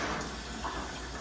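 Water pours steadily in a soft, continuous trickle into dough ingredients, quiet and close, with no talking.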